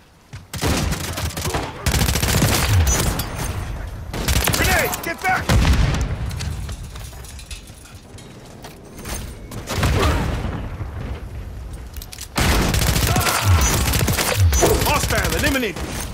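Grenade blast and rapid gunfire from a Call of Duty MW3 hardcore match, loud dense bursts of shooting and booms coming in waves, with quieter gaps between volleys and voices calling out over the action.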